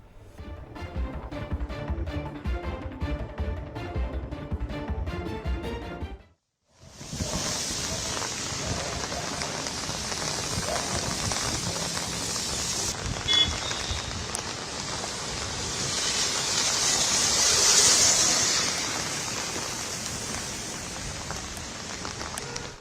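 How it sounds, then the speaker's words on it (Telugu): Heavy rain pours over Hyderabad in a dense, continuous hiss that breaks off for a moment and then returns, swelling louder near the end. "బంజారాహిల్స్, జూబ్లీహిల్స్, ఫిలింనగర్లో వాన దంచు కొడుతోంది"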